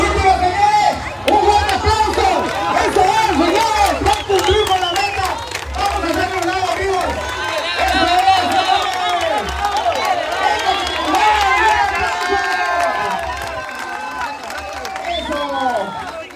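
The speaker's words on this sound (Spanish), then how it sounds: "Un fuerte aplauso" A crowd claps and cheers continuously at the finish of a Holy Week race in Gutiérrez Zamora, loud and sustained, with someone talking excitedly over the noise throughout.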